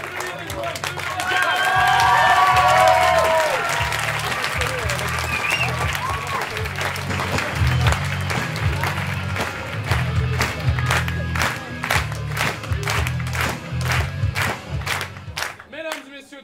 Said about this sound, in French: Si vous pensez que la deuxième paire mérite de rester,